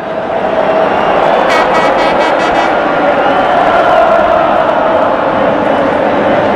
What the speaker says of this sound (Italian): applausi scroscianti per lui